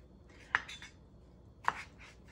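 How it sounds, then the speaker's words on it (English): Two sharp knife strikes against a cutting board as a washed, peeled potato is diced into small cubes, each a crisp single clack about a second apart, close and isolated. "Now I'm gonna cut it up into small little cubes."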